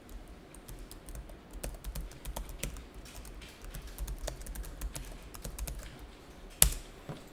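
Fingers type on a computer keyboard at close range, tapping keys at an uneven pace and ending with one sharp, louder press of the Enter key.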